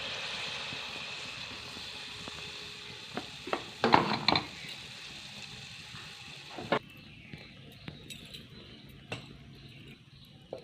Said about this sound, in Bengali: এর মধ্যে দিয়ে দিয়েছি তেল গরম করতে, তেলটা গরম হয় মধ্যে একটা একটা করে ভেজে নেব।